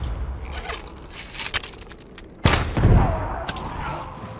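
Gunfire-like pops and bursts from a firecracker going off in the Ghost of Tsushima video game, a few sharp cracks early followed by a louder close burst of crackling blasts midway.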